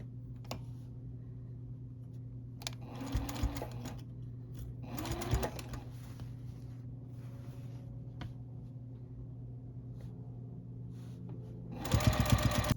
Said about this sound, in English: now you're just going to start sewing down this side, again 1/4 of an inch